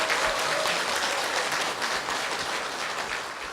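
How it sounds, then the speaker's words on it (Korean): A church congregation claps to welcome a member forward, producing a broad, continuous roll of applause from many hands that fills the hall and tapers slightly toward the end. "안정현 성도님 박수로 모시겠습니다"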